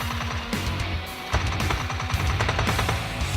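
A silenced UMP fires in bursts in PUBG's zombie mode, a run of rapid, muffled, thudding shots repeating in quick clusters, loud and close with no talking.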